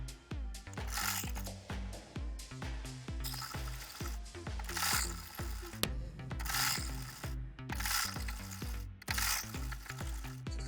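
Domestic sewing machine top stitching a bias piece on an Ankara fabric bubu gown, running in steady bursts of rapid mechanical needle clatter with short pauses between runs, close and fairly loud with no talking.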